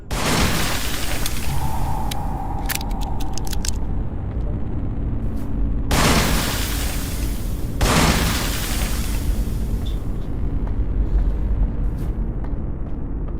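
An explosive object is shot in the survival horror game In Sound Mind, setting off several loud, sharp blasts with long rumbling tails over a constant low game ambience.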